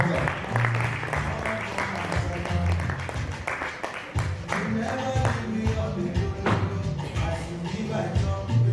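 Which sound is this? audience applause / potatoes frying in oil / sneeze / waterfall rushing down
audience applause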